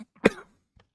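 A single sharp cough, close and short, followed by a faint throat sound in otherwise quiet surroundings.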